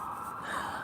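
An emergency vehicle's siren passes outdoors, heard as a faint, brief, steady wail in the distance.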